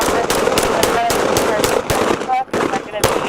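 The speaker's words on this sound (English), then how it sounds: "Medical, we got 1 round, shots fired." Rapid gunfire erupts during a police encounter with deputies, a dense burst of sharp reports in quick succession with shouting voices mixed in, loud and close throughout.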